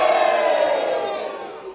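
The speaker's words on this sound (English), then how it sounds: "don't forget to cheer the heroes. So make as much noise as you can." A pantomime theatre audience at a Snow White show cheers and shouts together in a loud, sustained crowd roar that slowly fades.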